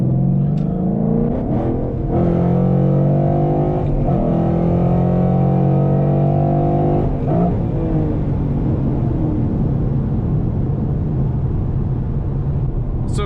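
A 2014 Ford Mustang GT's V8 engine accelerates from inside the cabin, loud rising tones through several gear shifts, the pitch climbing and dropping with each change, then settling into a steady drone.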